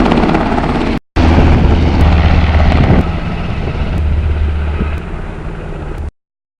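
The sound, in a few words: Air Guard helicopter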